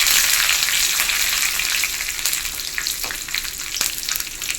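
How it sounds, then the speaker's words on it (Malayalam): Dried red chillies and curry leaves frying in hot oil, a dense close crackling sizzle that eases slightly over a few seconds, with a couple of sharper pops and no speech. "വറ്റൻമുളകും കറിവേപ്പിലയും നല്ലപോലെ മുരിഞ്ഞിട്ടുണ്ട്"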